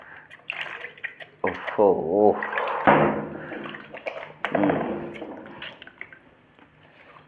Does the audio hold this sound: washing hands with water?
yes